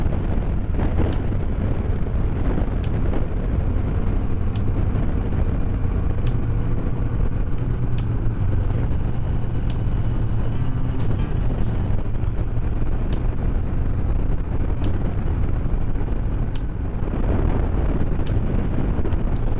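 Heavy wind roars against the microphone during a Harley-Davidson Road King motorcycle ride, a loud, continuous rushing blast with the engine's rumble buried beneath it.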